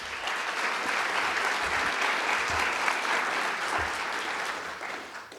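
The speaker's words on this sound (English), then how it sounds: "So let's please give them a round of applause." An audience at a chamber of commerce event applauds, a dense, steady round of clapping from many hands that holds for several seconds and then tapers off at the end.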